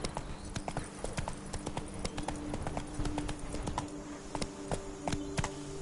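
Roach, Geralt's horse in The Witcher 3, gallops with quick rhythmic hoofbeats clopping steadily and fairly close over ambient game sound.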